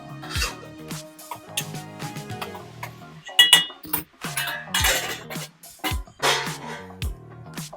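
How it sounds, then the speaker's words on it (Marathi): A lid goes onto a pan of cooking makhani sauce amid a series of sharp metallic clinks and knocks, irregular and close, with brief quiet gaps between them. "आपण थोडा वेळ त्याच्यावर झाकण ठेवायचं आहे"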